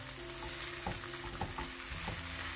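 Mushroom malai gravy with methi frying in a pan, a steady soft sizzle with a few stirring scrapes, close but fairly quiet under faint background music.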